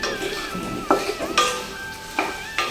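Turmeric is stirred into hot oil for a mango pickle, making a light sizzle beneath loud, repeated metal scraping and clanks of a spoon against the pan, with no speech.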